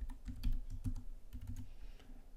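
Quick, close keystrokes on a computer keyboard entering an IP address, tapped out in two short bursts with a brief pause between, soft and quiet in a still room.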